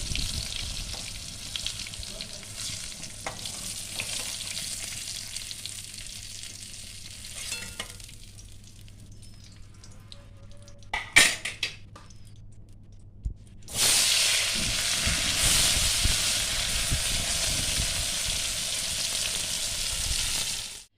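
Pieces of pointed gourd fry in hot oil with a continuous sizzling hiss, broken by a few clattering knocks, then swelling into a louder, denser sizzle for the last several seconds.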